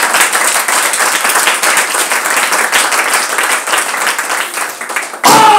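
A church congregation applauds loudly and continuously to acclaim Jesus Christ, a dense, sustained roar of many hands clapping close by that keeps going throughout, with a brief different sound at the very end.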